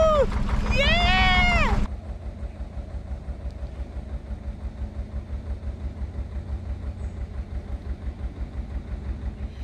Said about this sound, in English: Cruising on my boat.